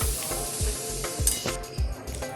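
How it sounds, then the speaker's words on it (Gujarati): Bowl-shaped vatki snacks for sev mamra sizzle steadily in hot oil, with a few soft knocks from stirring landing at a regular beat under the bright, continuous crackle. "हवे आपणे आमां वाटकीઓ तळीशुं।"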